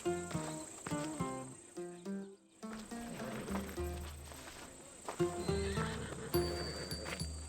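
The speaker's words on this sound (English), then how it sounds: "These are bred for battle. A true warrior's horse." A horse in the video game Assassin's Creed Odyssey neighs and whinnies several times amid hoof clip-clops, with crickets chirping softly in the background.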